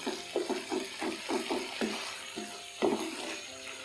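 Onions and green chili paste fry and get stirred in a pan over a high flame, with rhythmic scraping strokes and a steady sizzle, no voices.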